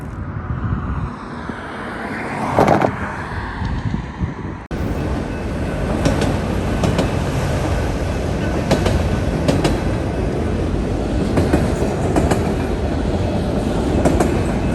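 A freight train with distributed power units rolls along the line in Sharonville, Ohio, loud and close, steady wheel rumble and rhythmic rail clatter continuing throughout, with a brief shift in tone partway through and no one talking.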